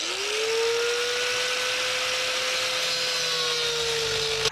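A power tool cuts through an aluminum intake pipe with a loud, steady high whine and gritty hiss, its pitch rising as it spins up and then holding for several seconds, close and with no talking.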